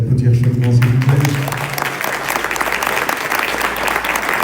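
Warm applause from an audience after a children's dance academy performance, a dense burst of clapping that rises as a voice trails off at the start, then continues steadily.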